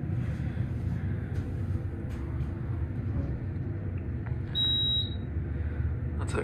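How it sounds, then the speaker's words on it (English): A single short electronic beep sounds from a custom Otis hydraulic parking elevator in a Minneapolis parking garage, heard once over steady low machinery hum. "So it's a different beep, probably replaced."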